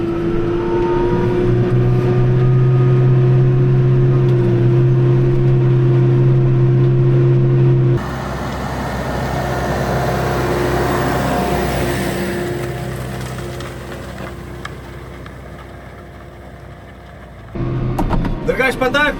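A Hurlimann XL.K 135 tractor's engine runs steadily in a field, a loud continuous drone with a shift in tone midway as the load changes, and it stays constant without talk over it.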